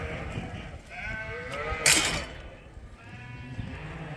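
Sheep and lambs bleat in a fenced barnyard, several overlapping calls close by with one loud cry near the middle, over a steady murmur of the flock.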